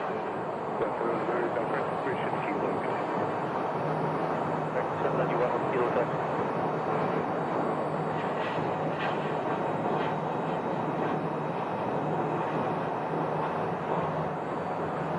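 An airplane taxis at Phoenix Sky Harbor Airport, a steady, continuous engine roar and whine that holds evenly throughout, heard from a moderate distance with a faint voice beneath it.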